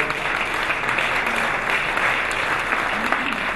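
An awards gala audience claps for a Deputy Minister, a steady, moderately loud round of applause filling the hall with a faint murmur of voices underneath.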